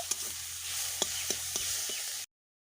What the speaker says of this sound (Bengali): এবারে শাকগুলো দিয়ে দেব শাকগুলো খুব ভালোভাবে ভেজে নিতে হবে